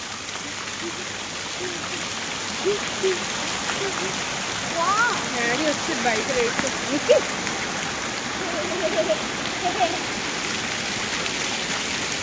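A park fountain at Shivaji Park in Vizag gives a steady broadband rush of falling water, with scattered voices and chatter from people nearby heard over it.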